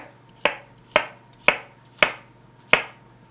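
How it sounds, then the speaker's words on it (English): Cucumbers being chopped on a cutting board for a Greek salad, five crisp knife strikes at an even, unhurried pace, close and clear with no voices. "I'm gonna chop the cucumbers"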